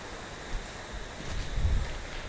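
Strong wind blowing at night around an old French castle, a steady rushing roar that swells toward the end with low buffeting gusts against the microphone, no voices.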